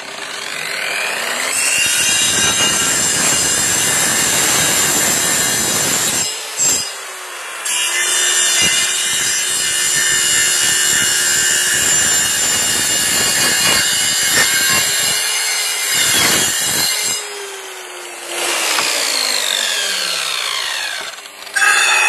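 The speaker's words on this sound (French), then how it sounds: "je suis un inconditionnel de la scie sur rail" A track saw cuts steadily through thick 50 mm Douglas fir in long, loud passes, the blade whining high with brief pauses between strokes before spinning down.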